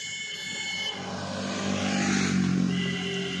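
An auto-rickshaw pulling up at the Shibnibas crossing in a village in Bengal. A steady motor drone sits fairly close and builds in loudness toward the middle, then holds, with a faint whine above it and no voices.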